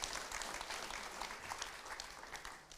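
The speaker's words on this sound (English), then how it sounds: "let's give another round of applause to our speakers." An audience at a Pacific policy conference session applauds its panel speakers, a steady, dense wash of clapping that holds at an even level for the whole stretch with no voices over it.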